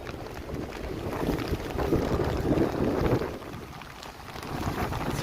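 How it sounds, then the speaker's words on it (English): Strong gusts batter a camera microphone outdoors on a miserable Toronto evening with freezing rain, producing a loud, continuous rumbling buffet that swells and eases without pause. "The wind is too strong for my gimbal."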